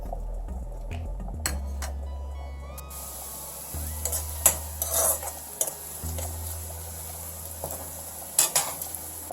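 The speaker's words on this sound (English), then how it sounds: "I'm going to fry onions for garnishing first and keep it aside." Onions fry in ghee in a kadai, a steady sizzle under repeated scrapes and clinks of a spoon stirring against the pan, with a low hum running beneath.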